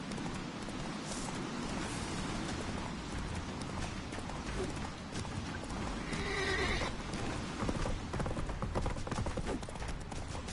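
Roach, a horse in The Witcher 3, gallops with steady clip-clop hoofbeats and lets out a whinny midway, loud and close amid game ambience.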